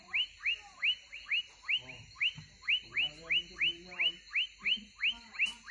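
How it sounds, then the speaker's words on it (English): Frogs calling outdoors near a tree, a steady run of about sixteen rising whistle-like calls repeating in a regular rhythm, loud and close, with a faint continuous high insect-like drone behind them. "but you are hearing the frogs go."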